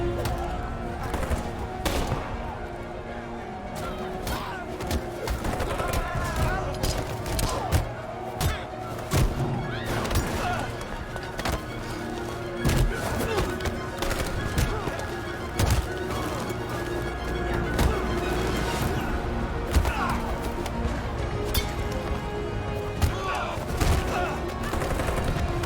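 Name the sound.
gunshots in the video game Detroit: Become Human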